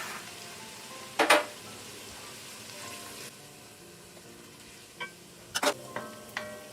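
Gnocchi dough being broken up and toasted in a pan, with soft sizzling under a few sharp scraping stirs of a utensil against the pan, clustered near the start and again toward the end.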